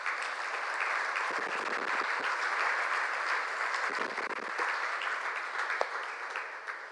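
A church congregation applauding, a dense steady wash of clapping that holds evenly for several seconds and tapers slightly at the end, with no talking over it.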